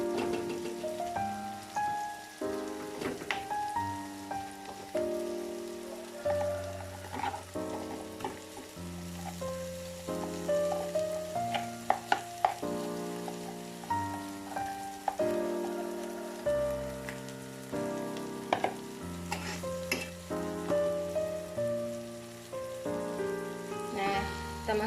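Ground meat tossed in a pan with onion for a stir-fried enoki mushroom dish, a steady sizzle and scraping running under prominent background music throughout.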